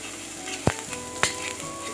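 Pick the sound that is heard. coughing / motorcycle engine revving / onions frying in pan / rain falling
onions frying in pan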